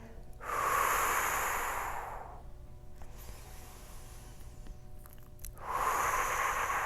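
Two long, audible breaths drawn in and out during a floor stretching exercise, each airy and close with a slight rasp, separated by a quiet pause, no speech.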